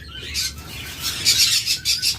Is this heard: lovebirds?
yes